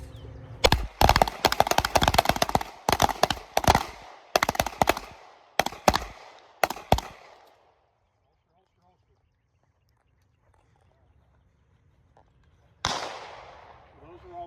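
Rapid strings of gunshots crack out at an outdoor shooting range during a timed drill, dense bursts of close shots for several seconds, then quiet, then one more loud shot.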